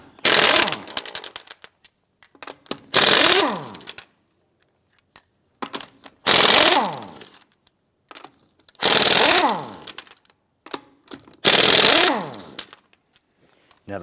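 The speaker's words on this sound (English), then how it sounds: "loosen and remove the lug nuts." An impact or power tool spins a 19mm socket to loosen and remove the lug nuts from a 1997-2006 Jeep Wrangler rear wheel, giving five loud, close bursts of rattling whirr separated by short pauses and small clinks.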